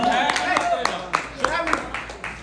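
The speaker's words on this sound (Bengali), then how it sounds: "আসছে হাততালি তো দেওয়া দরকার, তাই না?" Guests at a wedding give a few scattered, sparse claps, partly under a person talking nearby.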